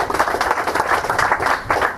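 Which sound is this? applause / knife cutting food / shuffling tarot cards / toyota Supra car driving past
applause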